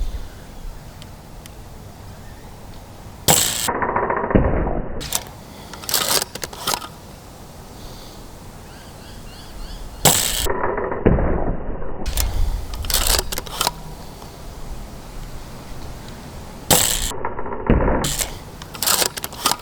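A Nerf blaster firing heavy half-length darts, heard as three loud mechanical shot bursts spaced several seconds apart, each a quick clack-and-thump against quiet room background.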